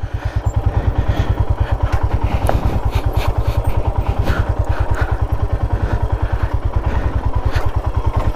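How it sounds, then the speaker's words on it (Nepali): A motorcycle rides downhill toward a camping spot at Baliman Dara near Ranka, its engine throbbing in a loud, steady, rapid thump close by, with faint clatter over the top throughout. "सो बाइक चाहिँ अहिले म तल लाँदैछु"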